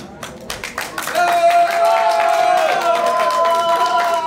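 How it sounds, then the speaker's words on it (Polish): Modest applause from wedding guests for the losing team of a wedding reception game, scattered claps that thicken into a steady round under a sustained tone, with crowd murmur and a voice over it. "Drużyna przegrana otrzymuje niewielkie brawa."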